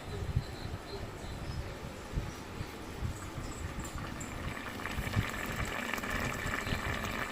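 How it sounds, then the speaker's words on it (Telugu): Sambar dal boiling in a pot, a steady, faint bubbling simmer with no pauses. "ఉడుకుతూ ఉంది కదండి"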